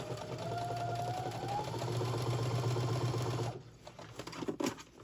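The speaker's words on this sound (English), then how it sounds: "I'm just going to sew right across the top" A home sewing machine stitches across the top of a kitchen towel in a steady, even whir for about three and a half seconds, then stops, leaving a few soft handling clicks and rustles.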